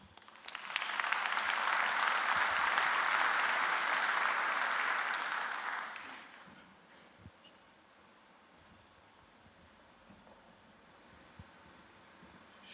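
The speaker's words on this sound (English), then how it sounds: "Please welcome the Minister with a round of applause." An audience at a cybersecurity conference opening applauds a minister with dense, steady clapping for about six seconds, then it fades to a quiet room with faint scattered noises.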